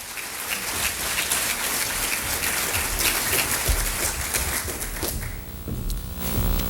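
Applause from a political dinner crowd greeting Senator Stan Humphreys, steady dense clapping throughout that swells slightly near the end.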